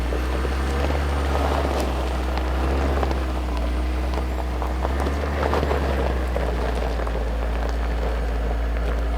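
Off-road vehicle with an open front differential struggling for traction, its engine droning steadily low and loud while the wheels spin and dig in, with scattered rough crunching and spatter over the continuous rumble and no talking.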